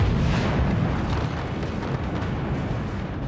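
Weapons fire and explode in the multiplayer artillery game Forts, a loud, continuous roar of blasts and rumbling detonations that stays heavy and dense throughout, with no talk.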